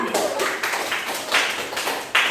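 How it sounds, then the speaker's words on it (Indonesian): Students in a classroom clap their hands during a lesson, giving a few scattered, uneven bursts of fairly quiet clapping over a couple of seconds. "Tepuk tangan dong."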